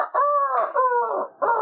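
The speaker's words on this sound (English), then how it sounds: "That's a fucking cockerel." A rooster crows nearby in a few loud, drawn-out bursts, separated by short breaks.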